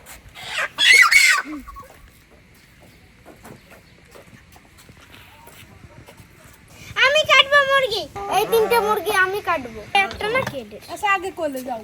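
Native deshi chickens cluck in a home setting, with bursts of calls at the start and a busier stretch of clucking later, mixed with people talking nearby.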